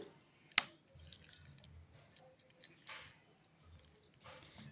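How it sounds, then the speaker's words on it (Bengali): A little water goes into a mixer jar of spice-paste ingredients for cauliflower malai curry, heard as faint, scattered trickling and dripping with one sharp click near the start. "এবার এখানে দিয়ে দেব সামান্য একটু জল"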